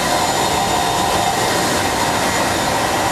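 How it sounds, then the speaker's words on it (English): Dryer on a SCREEN TruePress Jet 520HD high-speed inkjet press running with a loud, steady whooshing mechanical roar, unchanging and continuous with no talk. "this unit here is actually having the paper pass through this dryer three times to achieve no cockling, no picking"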